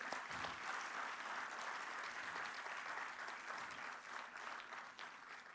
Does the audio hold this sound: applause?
yes